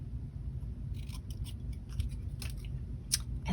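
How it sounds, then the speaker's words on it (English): Small scissors snip a little square from a scrap of yellow paper, a series of quiet, crisp cuts in uneven rhythm close by, over a low background hum. "we'll just cut out a little square"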